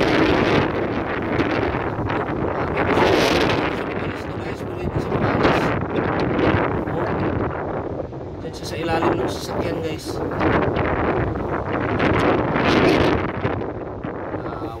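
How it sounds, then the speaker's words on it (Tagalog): Strong typhoon wind roars and buffets a microphone outdoors in gusting waves, loud and continuous over fifteen seconds, while someone talks over the blustering noise. "Grabe yung lakas ng hangin talaga dito guys"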